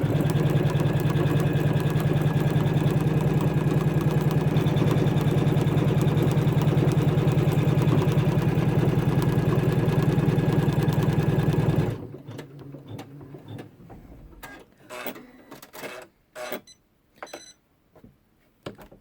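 Embroidery machine stitching a design onto a towel, a loud, close, continuous rapid hum and chatter that stops abruptly partway through, followed by scattered quieter clicks and knocks.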